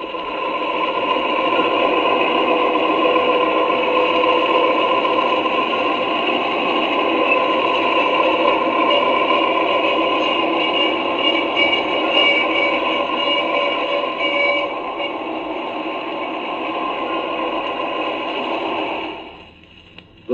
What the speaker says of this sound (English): The sub is now on diesels and proceeding away from the buoy.